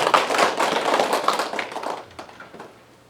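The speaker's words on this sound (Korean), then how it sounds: "그럼 박수 한번 쳐주셔야지." Audience at a Buddhist dharma talk clapping together, a lively burst of hand claps that thins out and fades over a few seconds.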